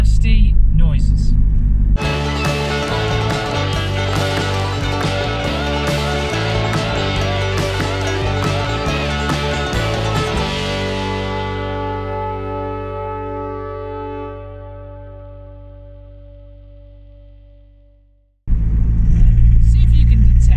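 Car nicknamed the Lemon, a 16-valve project car with a faulty manifold, driving with a loud, steady engine drone and harmonic whine that fades down and stops, then resumes abruptly at the end.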